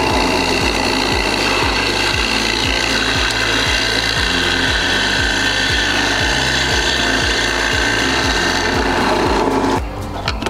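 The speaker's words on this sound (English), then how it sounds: "I'm just tightening a bolt at random." A ratchet clicks in a steady, repeated rhythm while a bolt is tightened, with rasping metal strokes close to the mic until it stops near the end.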